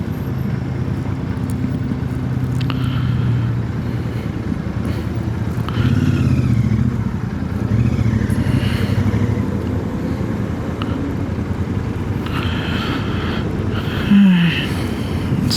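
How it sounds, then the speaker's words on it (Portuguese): A Royal Enfield Super Meteor 650 motorcycle rides through São Paulo traffic, its engine droning steadily with swells and surrounding road noise, passing vehicles and occasional clatter. "Hoje o dia tá gostoso de andar de moto."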